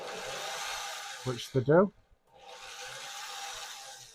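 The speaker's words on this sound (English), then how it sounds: "Make sure that your swivels do spin when you press your button on your drill" A power drill spins the swivels of a wire-coiling rig for a vape coil build, giving a steady whirring hiss that runs, pauses for a brief spoken phrase, then resumes.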